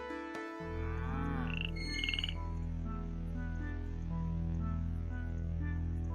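Frog croak from the video game Milkmaid of the MilkyWay, a short squeaky call near the start set against steady game music that plays throughout.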